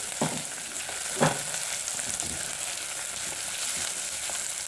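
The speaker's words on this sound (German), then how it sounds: "Ich warte hier, bis die Kartoffeln gebraten sind und dann kommen sie das rein." Potatoes and onions frying in a pan for Persian lentil stew (adasi): a steady, loud sizzle fills the whole stretch, with a couple of soft knocks near the start, no voice.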